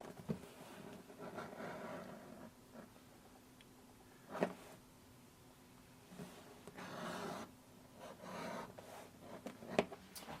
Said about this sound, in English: I'm just going to go run over to the sander real quick, level these edges